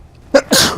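A single close, loud human sneeze in an indoor meeting room: a short intake followed by a sharp burst that trails off, with no speech around it.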